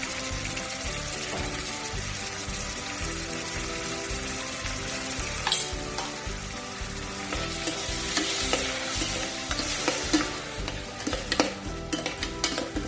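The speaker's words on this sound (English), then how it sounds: "Let it saute for really, anywhere between 3 to 5 minutes." Onions sautéing in a pan for stuffed eggplant, a dense, continuous close sizzle and crackle, with occasional spoon clinks and stirring toward the end, no voices.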